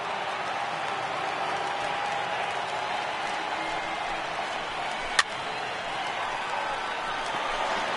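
Large baseball stadium crowd of over 39,000 in a PS4 baseball video game, a steady roar of cheering and applause throughout, with one sharp click near the end.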